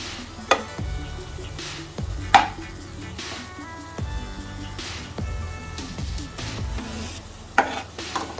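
Butter sizzles with onions in a frying pan as they are cooked for butter chicken, a steady frying hiss broken by periodic clanking of a spoon stirring against the pan.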